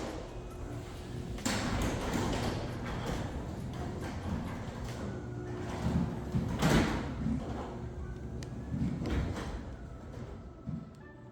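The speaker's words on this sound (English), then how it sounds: "and now we'll do the garage door test." A newly installed residential garage door in a modern luxury home runs open and then closed, a steady mechanical rumble with a few soft thumps and rattles lasting about eleven seconds at moderate, close range.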